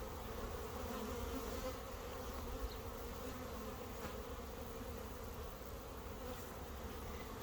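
Honeybees droning steadily inside a queenless hive after a laying queen is introduced, a dense continuous buzz heard up close and fairly quiet, with no voices.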